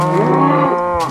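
A cow in the Minecraft video game moos in a single long, loud, drawn-out bellow up close, with a falling tone.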